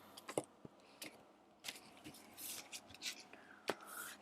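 A tarot deck is shuffled by hand near a lit candle, making soft, close, irregular flicks and rustles at a low volume, with faint whispery breaths between them.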